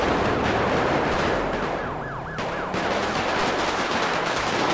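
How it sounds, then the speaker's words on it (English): Rapid bursts of gunfire fill a loud, chaotic scene in the GTA V LSPDFR police mod, with a wailing siren rising and falling through the middle and no talking. "We have multiple gunshots going everywhere."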